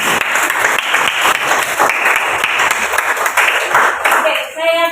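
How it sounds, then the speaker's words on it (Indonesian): Classroom applause for a student in an eleventh-grade biology lesson, a steady burst of many hands clapping together, fairly loud and close, with voices faintly mixed in before it fades near the end. "Tepuk tangan buat dia."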